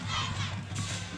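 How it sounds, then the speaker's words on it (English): Homecoming crowd at a rainy high school football game at Henry Hershey Field, Hershey versus Milton Hershey, a steady roar of many voices cheering and shouting, held loud throughout a brief moment. "They have a great homecoming crowd here at Henry Hershey Field."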